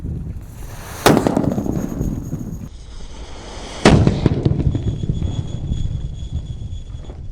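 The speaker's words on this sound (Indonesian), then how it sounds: "Dan ini mercon buntelan kertas yang paling jumbo guys. Kita nyalakan." Two sharp, loud blasts from a large paper-wrapped firecracker about three seconds apart, each followed by crackling debris and a lingering rumble outdoors.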